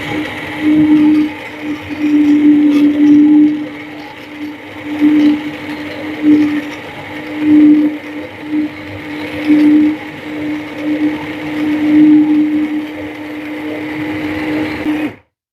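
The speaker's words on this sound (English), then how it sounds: "So let's go ahead and blend this up." Heavy-duty blender churning hot peach and onion BBQ sauce, a steady loud whirring motor with pulsing surges in pitch as the blade works through the thick mixture, running alone for about fifteen seconds before cutting off.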